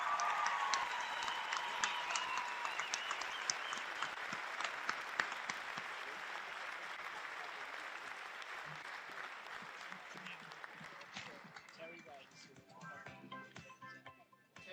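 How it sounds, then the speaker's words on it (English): Sustained applause from an audience at a high school scholarship night, steady and fairly dense clapping that gradually thins and fades out over about fifteen seconds. "Let's give these guys another round of applause."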